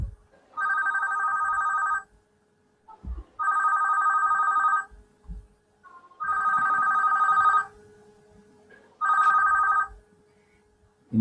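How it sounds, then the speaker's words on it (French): A home telephone rings four times in steady electronic bursts, each about one and a half seconds long with short gaps, heard indoors at moderate distance. "il y a un téléphone qui sonne, c'est chez moi"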